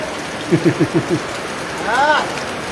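Heavy rain pours down at a large farmhouse in Fatehpur Shekhawati, a steady hiss throughout, with a few short voiced sounds and brief talking over it.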